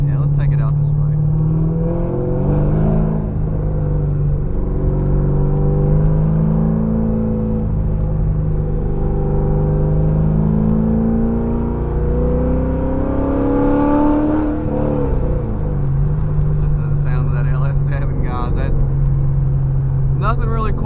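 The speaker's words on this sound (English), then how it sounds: "Nothing really quite like that LS7 sound, it really isn't." A C6 Z06 Corvette with an LS7 engine and twin-disc clutch revs and accelerates, its loud, steady roar rising and falling in pitch through gear changes, heard from inside the car while someone talks over it.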